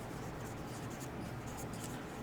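Pen or marker scratches steadily while triangle names are written during a geometry solution, a continuous close scratchy texture over broadband noise for a couple of seconds.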